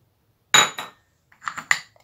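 A lid is set onto a chopper or blender jar holding mint chutney ingredients, giving two close clusters of sharp clinks and clattering contact knocks with silence in between.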